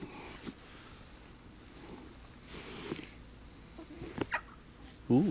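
Chickens at a carp fishing lake in winter give a few scattered clucks against quiet outdoor background, and a louder squawk comes near the end.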